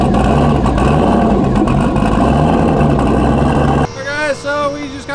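A turbocharged LS-powered Foxbody car revs hard at a drag strip, its loud, dense engine roar sustained for several seconds before cutting off, leaving quieter tonal whines and background noise.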